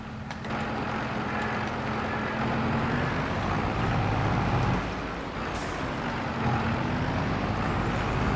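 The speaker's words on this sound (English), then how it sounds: "Nice engine sounds." A tractor engine in the video game Farming Simulator 22 drones steadily at a constant, fairly loud level, with a faint tonal whine rising and falling and a brief hiss partway through.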